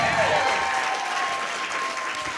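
A live audience applauds steadily for Renee Mitchell, a dense wash of clapping that fades slightly over a couple of seconds.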